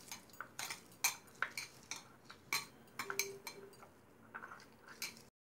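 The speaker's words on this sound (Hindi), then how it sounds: "अब इसमें नमक थोड़ी मिलाकर अच्छी तरह से हाथ से ही मैश कर लूँगी" Garlic, green chili and salt being mashed by hand in a bowl for Nepali-style tomato chutney, a quiet, uneven series of soft taps and clinks, close and without talk.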